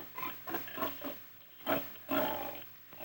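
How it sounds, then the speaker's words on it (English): Pigs at a 1940s county fair, powdered and groomed for showing, giving repeated loud grunting and roaring squeals in bursts close by, with no talk. "Over here, Ann is busy grooming her pigs"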